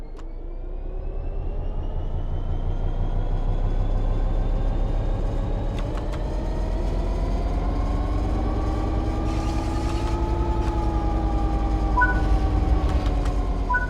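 A train in the Train Sim World 3 training center pulls away from a stop and accelerates on the throttle. Its motor tone climbs smoothly and stays steady and loud, with a few soft clicks and a brief higher whine near the end. No one speaks.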